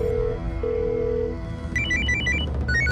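A telephone rings with a bright, rapid electronic trill in the last part, loud over a dramatic TV-series music bed with sustained tones.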